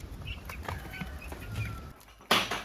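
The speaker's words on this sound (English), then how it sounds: "Here is the weekly update of our meat birds." Meat chickens about three weeks old in a brooder, with soft clucks and chirps scattered through steady low rustling, then a louder burst of flapping wings near the end.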